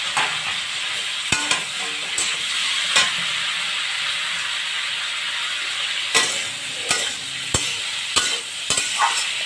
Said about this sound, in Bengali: সঙ্গে ফুলকপিটাকে দিয়ে ভালো করে ভেজে নিচ্ছি।